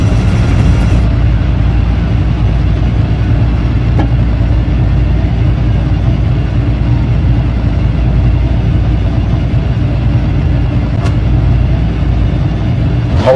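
Rally car engine in Dirt Rally 2.0 rallycross at Hell, Norway, held at steady high revs before the start: a loud, continuous droning engine note filling the whole stretch, with no voices.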